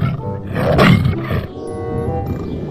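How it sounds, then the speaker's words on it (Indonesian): A tiger roars loudly and close, one long rough snarling roar that swells and then fades into a quieter growl, with no voices. "ternyata ini adalah hewan harimau"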